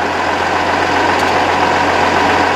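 A 2011 Dodge 5500 4x4 Altec AT40MH bucket truck idles with its PTO engaged, a loud, steady, close engine drone with a constant low hum and no other sounds.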